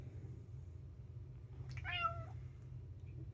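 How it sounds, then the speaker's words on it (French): A sick pet cat named Mr Rikiki gives one clear meow, close by, over a steady low hum in the room as it waits to be fed its kibble. "il n'arrêtera pas de miauler."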